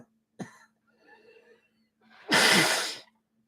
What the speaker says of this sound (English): And this coughing this morning,